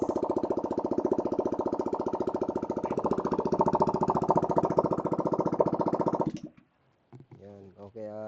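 A restored Yamaha Nmax v2 scooter engine runs loud and close with a rapid, steady chugging idle for about six seconds, then cuts off abruptly, followed by someone speaking.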